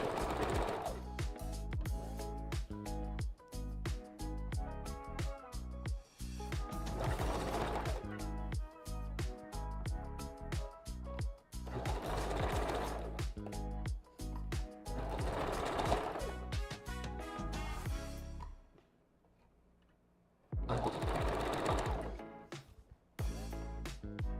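Sewing machine back stitching a red ombre wig closure, with rapid rhythmic clattering bursts that stop and start, close and fairly loud, with a short quiet gap near the end.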